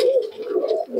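Pigeons coo steadily at a pigeon market in Murshidabad, a close, continuous run of throaty warbling calls with soft rises and dips, heard alone without voices.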